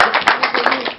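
A crowd at an outdoor celebration of divinities in a sacred forest in Togo claps in quick, loud, uneven bursts for about a second, heard close by.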